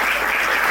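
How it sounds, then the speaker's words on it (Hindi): Children being applauded by a church congregation at a Sunday service, a brief dense burst of many hands clapping filling the moment with no voices. "सब तालियां बजाएंगे बच्चों को"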